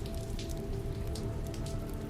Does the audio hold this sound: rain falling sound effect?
yes